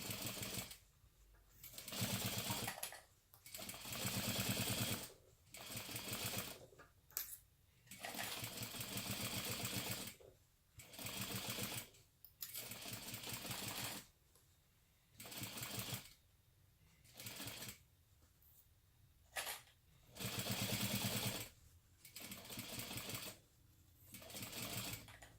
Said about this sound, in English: sew through all of this using a 1/4 inch seam allowance